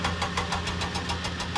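Cranky the crane lifts and loads oil drums in a Thomas and Friends kids' video game, a close, rapid, evenly pulsing mechanical clatter over a low motor drone.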